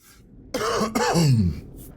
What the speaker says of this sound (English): my cough is getting bad again